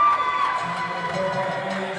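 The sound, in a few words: crowd cheering at a volleyball grand final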